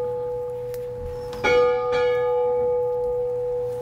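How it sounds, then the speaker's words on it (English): An old church bell, once rung for funerals, strikes loudly and rings out with a sustained metallic hum, struck again about half a second later, over quiet background. "As a boy, Ernest rang this very bell for funerals."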